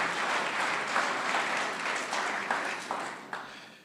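An audience at an annual general members meeting applauds a guest speaker with steady, moderately distant clapping that continues throughout, a few sharper claps standing out near the end.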